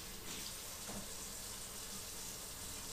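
A kitchen sink tap runs while hands are washed, a steady close hiss of flowing water with no talking.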